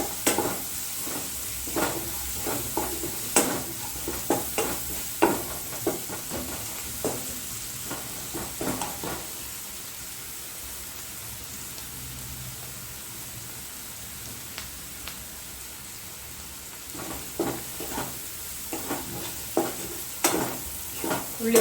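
Onions, shallots and green chilies with a little salt sautéing in a pan for beetroot pachadi, a steady soft sizzle broken by repeated scraping stirs, with a quieter stretch in the middle before the stirring picks up again.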